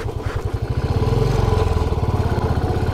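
A motorcycle engine idles in neutral on a mountain off-road track, with a steady, close, rapid low thumping pulse and no talk.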